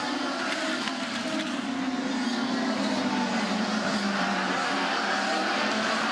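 IndyCar race cars lapping the Mid-Ohio circuit produce a continuous high engine whine with a slowly shifting pitch, heard at moderate distance without interruption.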